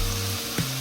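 Stock splashed into a hot pan of Spanish chickpea stew for steam frying gives a steady close sizzle and fry with no talk, and a brief louder burst of hiss just past the midpoint.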